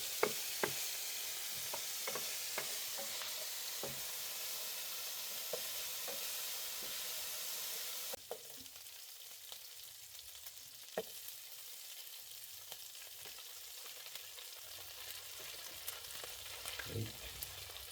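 Whole garlic cloves and green chilies fry in a pan for chicken biryani, a steady close sizzle broken by sharp scraping stir clicks, quieting noticeably midway to a softer crackle with occasional taps.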